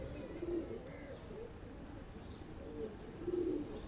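Pigeons coo softly at a busy Sunday pigeon market in Lalukhet, with low, repeated throaty calls spaced a second or so apart over a murmuring crowd background.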